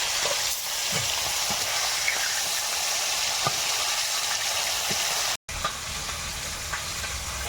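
Koi fish fry in a pan at a home kitchen during heavy rain, producing a loud, dense continuous sizzle and hiss with occasional stirring clatter, broken by one brief cut.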